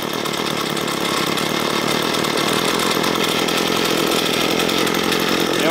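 Small two-stroke engine idling steadily during a carburetor idle screw adjustment, a loud, close, buzzing drone that holds constant for the whole stretch.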